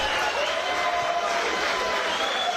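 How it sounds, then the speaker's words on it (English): Boxing crowd at Stamford Bridge applauding and cheering a fighter, a broad steady roar of clapping and voices filling the stadium throughout. "The crowd rise to him here at Stamford Bridge tonight."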